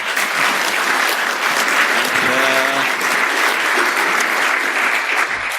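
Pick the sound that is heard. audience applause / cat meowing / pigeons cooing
audience applause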